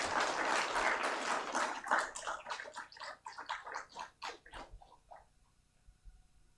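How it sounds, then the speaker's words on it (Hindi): An audience at a World Cancer Day program applauds to welcome a guest: dense, loud clapping that thins into scattered claps and dies away after about five seconds, leaving near silence. "तालियों से स्वागत किया जाए।"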